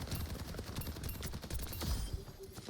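Gunfire in a first-person shooter video game, with fast repeated shots close and fairly loud, carrying on steadily for the whole stretch with no voices.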